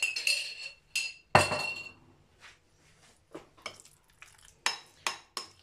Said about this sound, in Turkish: Bunu da karıştırıyorum.